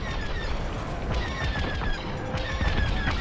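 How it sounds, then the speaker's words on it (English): Missiles and blaster fire in the Star Wars Squadrons space-combat game on PS5: a dense, continuous clatter of rapid launches and impacts over a roaring engine bed, with whistling tones streaking by. "Missiles, watch out!"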